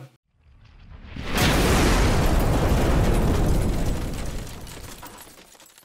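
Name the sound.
loud explosion boom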